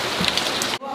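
Rain from the first bands of Hurricane Ian falls steadily near a restaurant, a dense, close hiss that cuts out briefly near the end before resuming.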